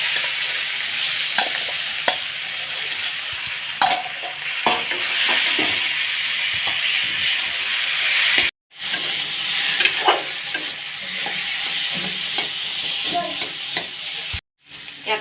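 Jackfruit seeds and fish frying in a pan for an Assamese curry, a loud continuous sizzle with occasional stirring scrapes and clinks, broken by two brief silences, close up.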